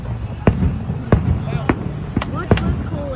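Fireworks exploding at a town celebration, heard from a distance: several sharp pops and bangs at irregular intervals, some with crackling tails, over background chatter from people nearby.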